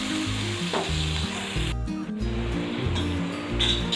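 Soya chunks are stir-fried in a hot pan for soya chilli, making a loud, continuous sizzle. Repeated scraping pulses from the stirring run under it, with no voices.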